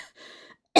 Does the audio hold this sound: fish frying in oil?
no